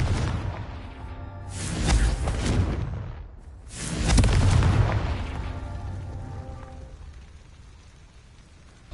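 Two heavy booming blasts from the Confringo fire spell in Hogwarts Legacy, each a loud broad burst that rolls off into a fading rumbling tail, with no talk over them.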